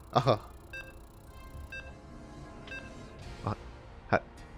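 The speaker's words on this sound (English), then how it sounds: "You can hear the beeps as we load on in." Short electronic beeps sound as a StarCraft II match loads, a few spaced tones rising out of a quiet background with soft clicks and faint voice-like bursts between them.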